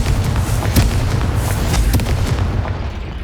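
Confringo blasting spell in Hogwarts Legacy: a loud, close burst of explosive booms and crackling impacts, a few sharp hits over a rumbling roar that fades near the end.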